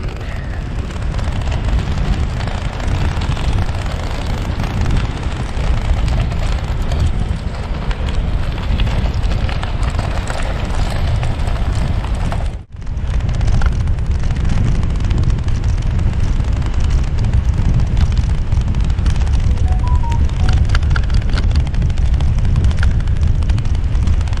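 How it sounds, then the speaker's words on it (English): Wind buffets the microphone of a cyclist riding downhill on a bikepacking trip in the UK, a loud, continuous rumbling roar that barely lets up except for a brief dropout partway through. "even on the downhill, that wind is enough against you"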